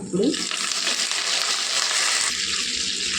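Crushed garlic fries in hot tempering oil, a dense close sizzle with crackling spatter that stays loud and steady, a brief clink near the start.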